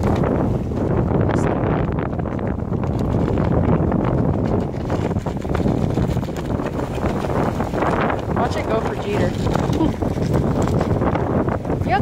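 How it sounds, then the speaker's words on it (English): Strong wind gusts outdoors, roaring and buffeting the microphone continuously for the whole stretch, loud and close with no pauses. "It's too windy."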